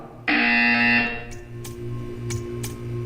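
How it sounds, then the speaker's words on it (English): A loud, harsh electronic buzzer in the video game Portal 2 blares for about a second, followed by a low hum and a few short clicks. "You will hear a buzzer."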